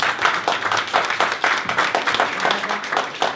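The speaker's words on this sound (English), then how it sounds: "round of applause for Gary" An audience applauding at a tech talk introducing speaker Gary Martin, dense, steady clapping throughout at close-to-moderate distance with no voices over it.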